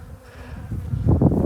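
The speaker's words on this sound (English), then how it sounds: "The bees have not been very happy." Agitated honey bees buzz close by around a lifted-off hive during a heather honey harvest, the droning hum rising and thickening toward the end.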